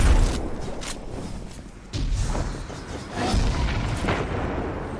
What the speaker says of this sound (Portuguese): Olha como um bom lança granadas.